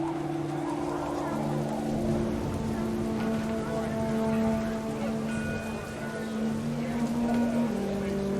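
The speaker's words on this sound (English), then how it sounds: "Rain came down in buckets then" Heavy rain pours down in the What Remains of Edith Finch game world, a steady broadband wash that fills the whole stretch, with low sustained tones and faint voices running underneath.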